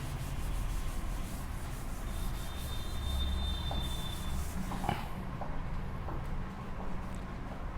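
An eraser rubbing out drawn lines on paper while working a maths problem gives a steady, continuous scrubbing rasp that runs throughout, fairly close and unbroken, with no voice over it.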